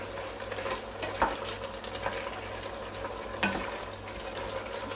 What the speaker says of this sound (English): stir that very well